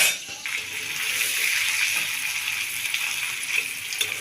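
Food boils hard in a covered pot, a steady hissing, bubbling rush that stays dense and even throughout, with small pops and rattles scattered over the top and no voices.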